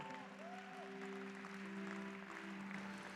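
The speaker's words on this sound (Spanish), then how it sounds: "Dale un aplauso a Jesucristo." A church congregation applauds during a sermon, a steady wash of clapping held at an even level for the whole stretch, with sustained keyboard tones ringing underneath.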